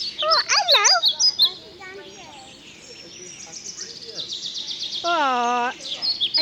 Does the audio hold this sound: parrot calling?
yes